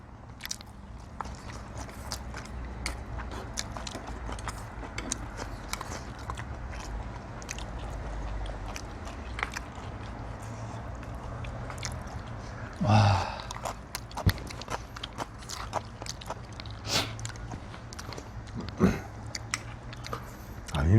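Jjajang noodles being chewed and slurped during an outdoor mukbang on a hot day, close and intimate, with soft wet biting and mastication sounds repeating through the clip and a louder burst near the middle.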